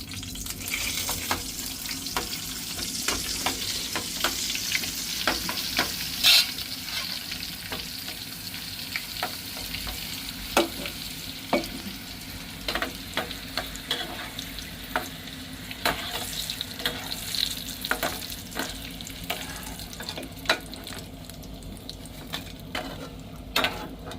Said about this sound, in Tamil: அப்பளத்தை நாங்கள் பொரிச்செடுப்போம்